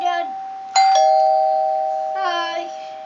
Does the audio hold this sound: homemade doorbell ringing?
yes